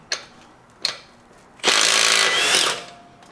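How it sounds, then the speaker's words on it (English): Impact gun spinning off lug nuts on a 2021 Honda Ridgeline wheel: two short sharp bursts, then a loud sustained rattling whir lasting about a second, close and alone. "we're going to use our impact gun"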